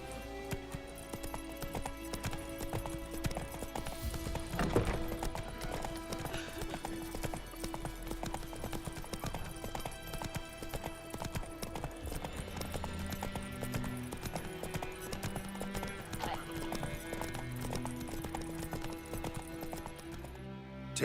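Horse hooves galloping in The Witcher 3: Wild Hunt, a fast, steady clip-clop rhythm that continues throughout, with occasional snorts and whinnies over a game music bed.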